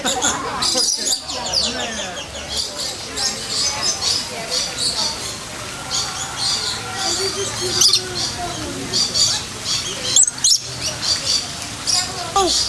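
Birds in an aviary give busy, high chirps, squeaks and scratchy chatter up close, with fluttering and scuffling throughout as they fight. Faint human voices come and go underneath.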